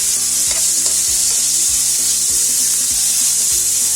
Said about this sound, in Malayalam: ടൊമാറ്റോ അരിഞ്ഞിട്ടുണ്ട്. ഇതിലിട്ട് വഴറ്റുന്നു.